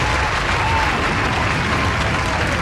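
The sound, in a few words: applause sound effect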